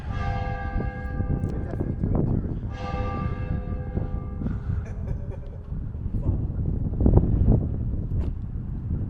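Church bell ringing from a bell tower in Stirling, struck tones sounding twice early on with long ringing decay, heard outdoors under steady wind noise and some distant talk.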